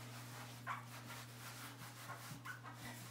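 A dog whimpers in a quiet kitchen, brief thin whines rising at a few moments over a low steady hum, faint and close.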